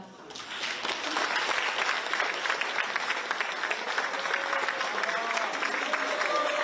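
Sustained applause from a crowd at a formal Korean government event as officials are introduced, steady and fairly loud, continuing throughout with some voices underneath.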